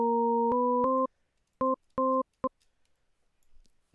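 A short electronic tone pattern from a 3-scale oscillator in FL Studio, with clipped synth notes in a stepped, simple rhythm, a few quick blips and pauses, clean and close.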